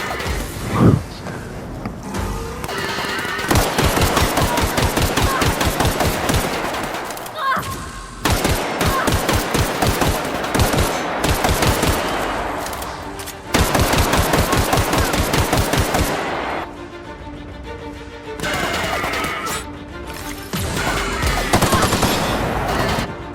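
Loud bursts of rapid automatic gunfire in the video game The Outer Worlds, repeated volleys with short gaps between them, close and harsh, with someone talking at times.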